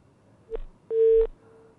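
Telephone line tones sound after a call drops: a short beep, then a longer steady tone, with a faint lingering hum, clean and close against quiet background.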